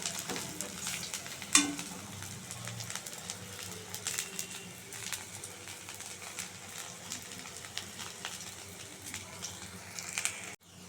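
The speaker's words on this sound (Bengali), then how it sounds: "পেঁয়াজিগুলো আমার লাল লাল করে ভাজা হয়ে গেছে" Onion fritters (piyaji) frying in hot oil until reddish-brown give a steady, fairly soft sizzle with occasional light stirring clicks and one sharper knock near the start, no talk.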